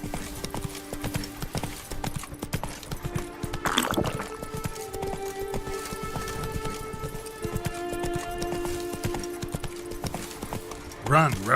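Roach, the horse in The Witcher 3, galloping with rapid rhythmic hoof clops close by, a whinny near the end, and a voice talking over it at times.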